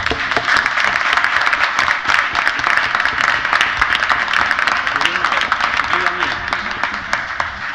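Audience applause at a traditional carnival event in El Tablero de Maspalomas, a dense steady clatter of many hands filling the whole stretch, with a voice faintly audible beneath.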